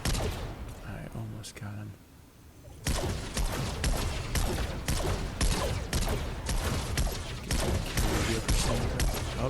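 Rapid bursts of gunfire in the video game Fortnite ring out loud and close, a dense rattling volley after a quieter stretch, with a voice speaking briefly early on.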